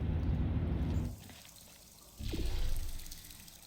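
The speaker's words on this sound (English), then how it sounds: "There's water." Water runs and trickles in the Portal 2 game, a gushing flow that fades to a quiet lull, then returns with a splashy rush before easing off, fairly soft.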